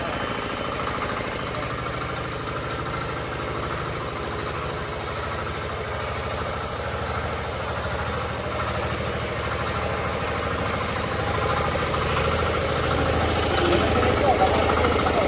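A 12 HP diesel engine on a mini tractor with a rotorvator idles with a steady, rumbling chug throughout, growing slightly louder toward the end, with people talking over it.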